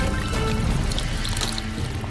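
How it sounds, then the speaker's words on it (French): Water pours into a frying pan of noodles that were fried first and hisses and bubbles loudly and steadily for the whole stretch, with no talking. "Versez de l'eau."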